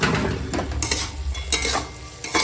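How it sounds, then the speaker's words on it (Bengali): Tomato chutney with raisins, cashews and mango leather is stirred in a pan, giving a close, busy scraping and bubbling sizzle with repeated rhythmic spoon strokes, no voices. "হালকা হাতে মিশাবো"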